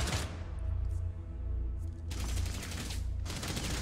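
Pistol gunfire in a video game comes as bursts of sharp, rapid shots, one cluster at the start and heavier volleys in the second half, loud and near with no talking.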